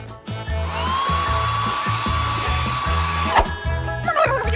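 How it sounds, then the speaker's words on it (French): A hair dryer blows steadily in a kitchen where a cake is being decorated, a continuous whine with a faint rising pitch heard over a repeating background music beat, cutting off near the end. "Tiens, le sèche-cheveux, ça va être beaucoup plus pratique."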